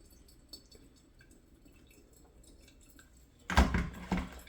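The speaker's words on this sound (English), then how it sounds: "you just pour that hot water right over that coffee" Hot water is poured over ground coffee for a Thanksgiving brew; a quiet stretch gives way to a loud, close splashing pour that fills the last second or so.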